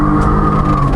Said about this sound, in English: Let's do a little wheel spin.